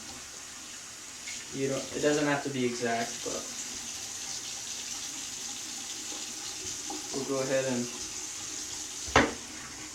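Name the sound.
running water for film developing pre-soak rinse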